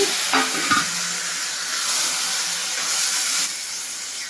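Tomatoes hit hot oil with frying onions for a quick tomato curry, raising a loud, steady broadband sizzle. A few clattering knocks sound at the start, then the sizzle hisses on continuously and alone.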